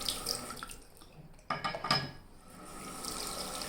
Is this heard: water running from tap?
yes